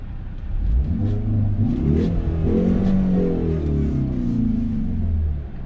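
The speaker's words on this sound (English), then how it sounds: "Let's listen to that exhaust." A 2019 Hyundai Veloster N's deep exhaust rumbles in Normal mode, then revs up and falls back in a couple of throaty bursts before settling to idle, close and loud.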